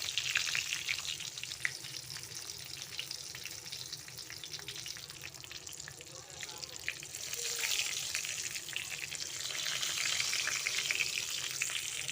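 Stuffed brinjals fry in hot oil in a pan for a Mumbai-style gravy, with a steady, close, hissing sizzle that swells slightly toward the end.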